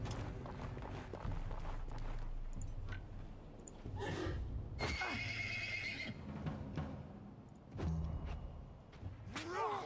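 Horses in the turn-based strategy game Wartales whinny and neigh several times over a busy mix of clip-clopping hooves and movement, fairly loud and close throughout.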